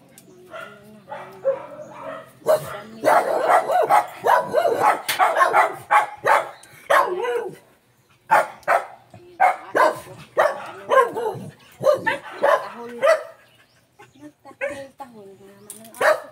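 A dog barks repeatedly at home, sharp close barks coming in bursts with brief whimpers and yips between them, while a person talks over and around the barking.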